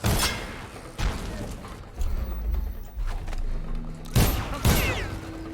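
A series of sharp explosive blasts and heavy thuds booms out at irregular intervals, loud and punchy, like rapid detonations in the video game Dishonored.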